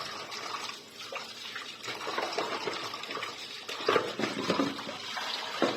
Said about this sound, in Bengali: এবার আমি আলুটাকে সুন্দর করে জলে ধুয়ে নেবো